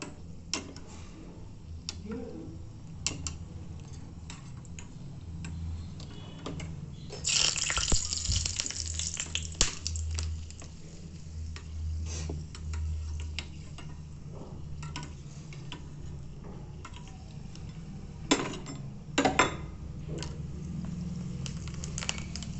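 Green chillies fry in hot oil in a pan on a gas stove, giving a quiet, steady crackle with scattered small pops and sputters, and no talking.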